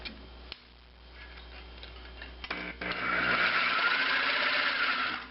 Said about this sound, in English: It's a Sawzall, and I noticed that there's room in here to get the Sawzall in and cut this